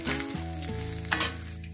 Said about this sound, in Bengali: বাদ বাকি মাছগুলো ভেজে নিয়ে ফিরছি